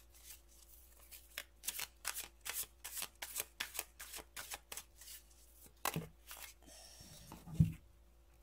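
Cards are shuffled in a quiet room during a card reading, a rapid series of soft riffling bursts in a steady rhythm, followed by a few louder handling taps and a thump.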